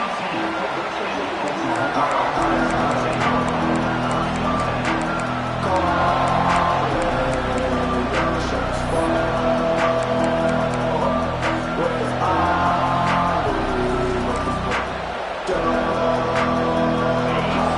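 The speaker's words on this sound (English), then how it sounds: "this crowd is fired up. Listen to this noise here." A large college football stadium crowd roars and cheers continuously early in a game, loud and sustained, with a broad wash of voices and some music-like tones underneath.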